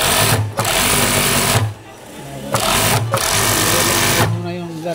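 An industrial sewing machine in a garment workshop stitches garter elastic in loud, steady bursts separated by short pauses, with people talking underneath.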